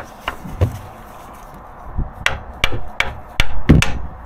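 A handful of sharp hammer blows, irregular and close, starting sparse then coming quicker, with some light knocking and shuffling between strikes, as a part is hammered into place on a Rover P6 during a timing chain job.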